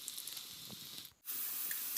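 Spices sizzling in hot mustard oil in a kadai after frying onions for fish curry, a soft steady hiss that briefly drops out and then returns stronger.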